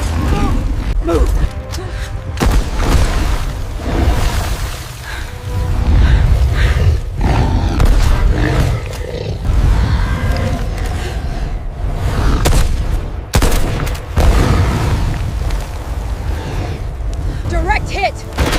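Heavy explosions and bursts of gunfire aimed at a giant python, loud booming blasts and roaring noise throughout, with tense shouted voices mixed in.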